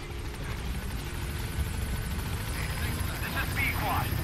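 Support helicopter flying in to a landing zone in Metal Gear Solid V, a steady whirring rotor drone with engine hum that runs throughout, under a radio voice.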